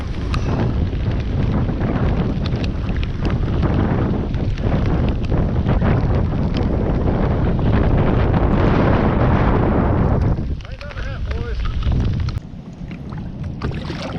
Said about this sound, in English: Oh, there comes another gust.